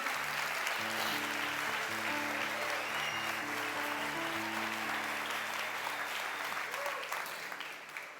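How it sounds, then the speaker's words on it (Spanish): Loud, sustained applause from a church congregation filling the hall, clapping steadily for the parents in attendance, with low musical tones underneath that fade slightly toward the end. "¿Me das un aplauso fuerte a todos los papis que tenemos hoy aquí en esta sala?"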